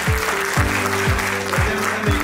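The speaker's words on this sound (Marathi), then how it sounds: "तर मॅडमचा एकदा टाळ्या जोरदार वाजवून आपण वेलकम करतो" An audience claps to welcome someone speaker at a solar energy expo knowledge session: a steady, dense wash of applause held for the whole moment, with faint tonal sweeps repeating underneath.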